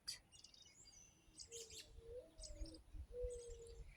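Bird calls outdoors, taken as an owl calling, sound as several short tonal hoots and chirps at a moderate distance over a steady background hiss, with soft low rumble beneath.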